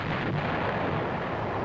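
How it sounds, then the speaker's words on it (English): The main gun of an M551 Sheridan armored reconnaissance vehicle fires with recoil, leaving a heavy, loud, rolling boom and rumble that fills the short moment without a break. No voices are heard. "After the recoil, the gunner observes the effect of his firing in the telescope."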